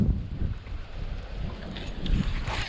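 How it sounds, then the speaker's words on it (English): Wind blows steadily across the open water during fall bass fishing, a dense, rumbling roar and buffeting against the microphone that holds throughout without any voices. "I'm not going to be able to see any shad coming up top popping with this wind blowing the way it is."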